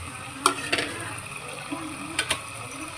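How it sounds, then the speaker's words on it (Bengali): Mutton curry with tomatoes sautéing in a pan, soft sizzling under sharp scraping clicks of a spoon stirring against the pan, a few distinct strikes over a few seconds. "এবার 10 মিনিট 10 মিনিট এবার কষা হবে ভালো করে মাংসটা"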